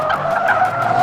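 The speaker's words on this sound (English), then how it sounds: "Watch the wheel spin, my friend." A car spinning its wheels at launch gives a loud, close, sustained tire screech with a steady squealing tone throughout.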